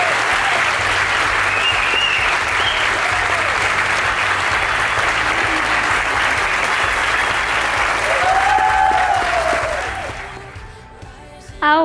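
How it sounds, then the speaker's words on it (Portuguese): Sustained applause from guests at a wedding celebration in Estaleirinho, dense and even for about ten seconds, then thinning out as a few voices emerge near the end. "Uma salva de palmas para eles."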